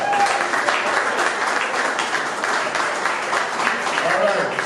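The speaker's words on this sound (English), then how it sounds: "So let's give ourselves a round of applause." An audience at a downtown opening-night community event in Champaign, Illinois gives a loud, full round of applause. The thick, unbroken clapping carries evenly through the whole stretch, with some voices mixed in.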